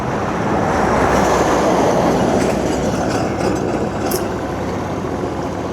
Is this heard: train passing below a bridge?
yes